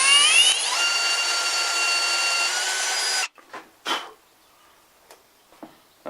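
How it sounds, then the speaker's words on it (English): A small drill whines steadily at high pitch for about three seconds, spinning up at the start, then stops, followed by a few faint clicks and taps. "I'm going to drill a very small hole in the valve here"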